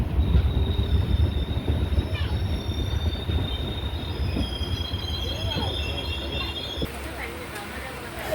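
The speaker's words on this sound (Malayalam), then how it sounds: "നെയ്യാറ്റിൻകര റെയിൽവേ സ്റ്റേഷനിലേക്ക് ട്രെയിൻ എത്തി" Pune–Kanniyakumari Express pulling into Neyyattinkara railway station, wheels squealing in long high steady tones over a loud continuous rumble of rolling railcars, with faint voices in the background.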